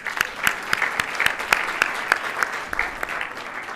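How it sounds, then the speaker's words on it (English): An awards ceremony audience applauding, scattered individual claps at first building into a steady round of clapping at moderate volume, with no talking over it. "I'd like you all just to give yourself a round of applause for making it tonight."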